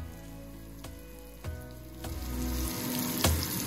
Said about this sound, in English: cook the beef in the bacon fat in small batches.